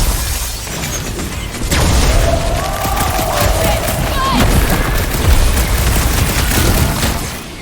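Guns fire in the Guardians of the Galaxy video game, loud bursts of gunfire and booming impacts over a churning battle backdrop, with characters' voices heard amid the combat.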